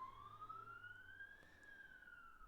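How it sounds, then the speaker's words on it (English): A siren wails steadily throughout, its pitch rising slowly and then easing off, loud and fairly close against faint low traffic rumble, with no talking. "Can you hear that siren?"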